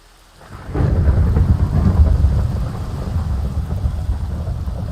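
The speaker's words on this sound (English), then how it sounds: "It's a thunderstorm. Of course it is." Thunderstorm in Vault Hunters, a Minecraft modpack: a loud thunder rumble breaks in after a brief quiet, followed by continuous heavy rain rolling on alone.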